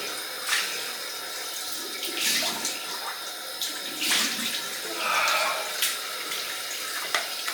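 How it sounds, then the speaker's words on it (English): Cold water runs from a tap for a rinse after a wet shave in a bathroom, a steady splashing stream with a few louder surges of water hitting the sink. "Cold water rinse."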